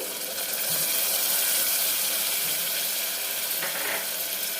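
A small cup of yogurt goes into hot spiced oil with salt and ground coriander for a quick mutton curry, setting off a loud, dense, continuous hissing sizzle up close with no voices.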